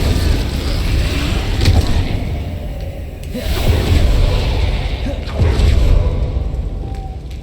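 Glacius ice spell cast in Hogwarts Legacy, a series of swooshing magical bursts and low thuds rising and falling amid dense game effects, with a voice calling out spell names over the mix.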